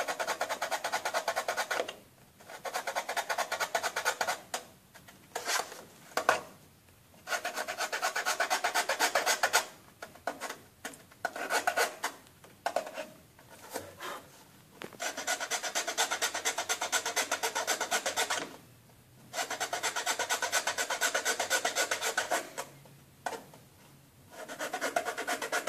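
Small metal files rasp in repeated bursts of quick back-and-forth strokes, separated by short pauses, close up and steady throughout.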